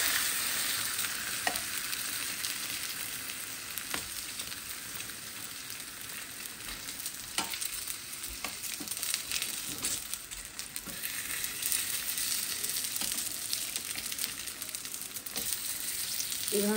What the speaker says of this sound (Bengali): এভাবে পুরিগুলো বেশ সুন্দর করে লাল লাল করে ভেজে নিব।